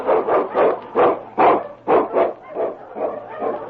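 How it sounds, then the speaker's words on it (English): An Eskimo husky lead dog barks in a quick run of about ten sharp, loud barks close by, with no other sounds around it. "The Wonder Dog King, swiftest and strongest of Eskimo lead dogs, blazes the trail through storm and snow for Sergeant Preston"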